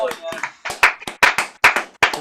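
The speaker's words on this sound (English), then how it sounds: "I thought I'd get in quick with the applause in case you got another verse in" Applause at a folk club gathering, irregular sharp claps from a small group, fairly close and loud, coming in uneven bursts.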